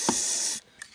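Aerosol lubricant hisses in one steady half-second burst into the gear linkage of a BMW E46 330Ci Clubsport, then cuts off, followed by a faint click.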